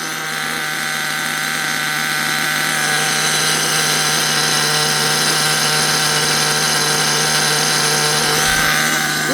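A Hotbodies Dirt Demon nitro RC car's small glow engine idles steadily, a loud, close, buzzing drone that holds an even pitch throughout.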